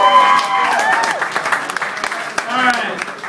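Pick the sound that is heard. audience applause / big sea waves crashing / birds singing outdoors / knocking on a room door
audience applause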